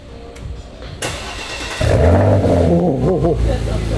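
A Porsche Macan GTS SUV engine with an aftermarket ArmyTrix exhaust starts up and revs, the pitch swooping up and down in loud bursts, with faint voices early on.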